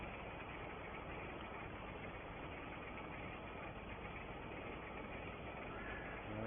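Tractor engine idles steadily at the end of a field during a 1965 oat harvest at Attingham Park, a low, continuous rumble that holds even and unbroken, faint and somewhat muffled.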